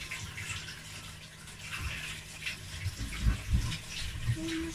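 Water runs steadily from a tap during washing, a continuous soft splashing rush at moderate level with some low clunks and handling noises near the end.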